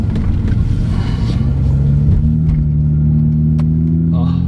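A BMW 125i E82 with an automatic gearbox, freshly serviced, accelerates smoothly with a steady engine drone and rising low tones, heard from inside the car under a continuous rumble.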